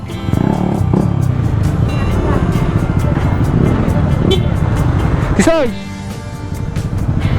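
Yamaha NMAX V2 2021 scooter with an open pipe exhaust revs loudly and close, a raw rumbling drone that drops away near the end, with people shouting and talking over it.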